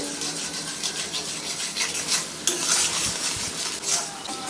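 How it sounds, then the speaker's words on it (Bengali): Semolina cooked with water in a pan on a high flame, stirred steadily with a spatula, giving close, continuous scraping and a soft sizzle with occasional metallic knocks and no voices. "এই যে এক হাতে সুজিটা ধরেছি আর এক হাতে খুন্তিটা দিয়ে এরকম করে নাড়তে থাকতে হবে"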